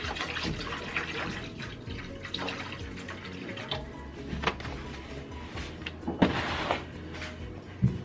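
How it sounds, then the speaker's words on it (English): Water is poured into a pan while smothered pork chops cook, a close running splash and trickle with a few drips and clinks, steady and moderately loud. "I'm going to add more water."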